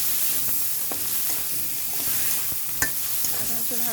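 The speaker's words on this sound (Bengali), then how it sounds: "ভেজে নিচ্ছি বা কষিয়ে নিচ্ছি" Pabda fish, rubbed with salt and turmeric, sizzles in hot oil with green chillies and bay leaves as it is stirred in a pan, a steady close frying hiss with occasional scraping clicks of the spoon.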